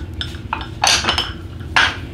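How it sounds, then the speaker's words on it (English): A utensil stirs salt, baking soda and baking powder in a bowl for unicorn cupcake batter, producing light clinks and scrapes against the bowl in a few quick strokes over a low background hum. "we're going to stir this around"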